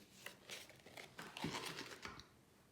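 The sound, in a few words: peeling a birthday sticker off a sticker sheet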